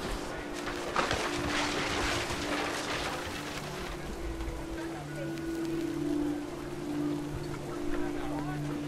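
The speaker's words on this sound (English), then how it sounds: "The rain came down in buckets then" Heavy rain pours steadily in the game What Remains of Edith Finch, a constant hiss of falling water with a low hum beneath, while a voice talks over it.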